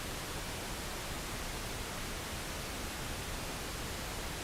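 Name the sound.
pink noise test signal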